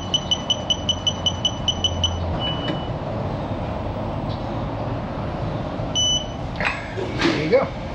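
Digital torque wrench on a car hub in a repair shop, giving a regular string of about a dozen quick electronic beeps, then a couple more beeps later over shop noise and movement.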